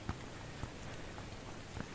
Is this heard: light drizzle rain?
yes